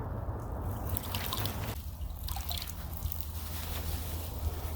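Water gurgles and trickles as a BRG9 Elite gun is dunked and air bubbles rise from it, with a steady low bubbling and a brief shift in the middle of the sound.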